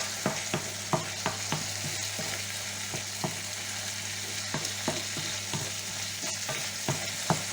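Vegetables sautéing in a hot pan with round courgettes, a steady close sizzle broken by frequent sharp clicks of a utensil stirring and scraping against the pan.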